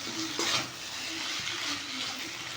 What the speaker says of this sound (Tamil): இப்போது கத்திரிக்காய் நல்லா பொன்னிறமாக வதங்கணும்